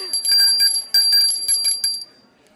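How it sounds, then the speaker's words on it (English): A small bell at an education summit rings in a quick series of bright metallic dings, several clustered strikes close by, then fades out. "Ring that bell there."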